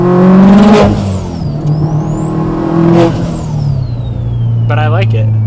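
A loud 800whp Subaru STI with a T51R turbo mod revs hard twice, engine note climbing and falling with a rising turbo whistle, then sputters and crackles as it settles into a rough idle while someone talks.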